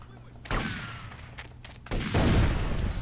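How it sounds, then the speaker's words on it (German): Enemy gunfire in GTA Vice City Stories: two loud bursts of shots, with sharp cracks, followed by a rumbling boom, over a quieter game background. "Schießen auch schon auf uns."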